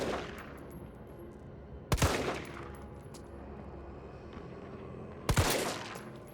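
Two loud gunshots ring out several seconds apart in the Resident Evil 3 video game, each a sharp crack with a booming echoing tail, over a low ambient hum.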